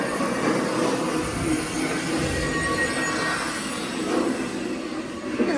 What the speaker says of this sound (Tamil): இங்கே பாருங்க, ட்ரெயின் போகுது.